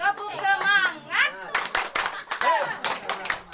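A group does an energetic rhythmic spirit clap during a community visit, sharp hand claps in a steady pattern mixed with chanting voices and children's chatter close by.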